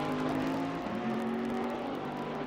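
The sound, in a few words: Bentley GT3 race car in sim racing game at Oulton Park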